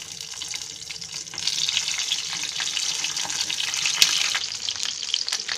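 Capsicum (shimla mirch) dropped into hot oil sizzles loudly, a steady crackling hiss that swells after a quieter start, close and without talk.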